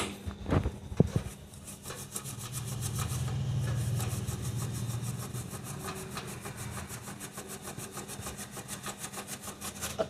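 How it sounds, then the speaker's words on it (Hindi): A brush scrubs dust out of computer RAM slots with quick, repetitive bristle strokes that form a steady close-up rasping, after a few sharp knocks at the start. "मैं इन ब्रश के साथ इनको क्लीन कर रहा हूँ"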